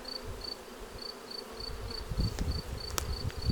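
Honeybees buzz steadily at close range at the entrance of a hive, with a faint high repeating chirp, and a few soft knocks and rustles toward the end.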